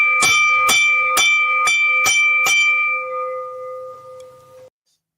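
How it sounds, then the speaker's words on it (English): A handheld bell is rung six times in quick, rhythmic strikes, each bright metallic ding ringing close and loud, then a sustained tone decays and fades out alone. "Freddie's going to be ringing the bell today."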